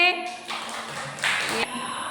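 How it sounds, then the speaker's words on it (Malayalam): A classroom of children gives a short round of applause for a classmate on Reading Day, a brief burst of group clapping with voices around it. "ഒരു ക്ലാപ്പ് കൊടുത്തേ."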